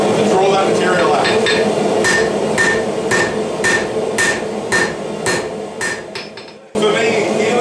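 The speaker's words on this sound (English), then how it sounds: "heeling the hammer over and using the edge of the hammer as a cross beam to draw that material out" Repeated hammer blows on hot steel drawing out a knife blank at the anvil, a steady run of loud, ringing strikes spaced about every half second, with a short pause before the blows resume.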